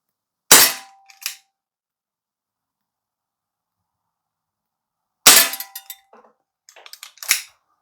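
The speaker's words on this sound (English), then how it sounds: "We're going to shoot it in single action because that makes the trigger a little bit better." An ASG Dan Wesson 2.5 inch gold CO2 BB revolver fires in single action: one sharp, loud crack, then after a long silence another shot followed by a few quieter mechanical clicks and a further crack, all close.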